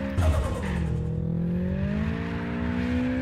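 A car in the APEX POINT racing game drifts with its engine droning and rising steadily in pitch, a sustained close rev running under light tire noise throughout.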